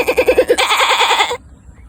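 A person's voice imitates a male goat, giving a loud, close, wavering bleat in quick pulses that holds for over a second and then cuts off abruptly.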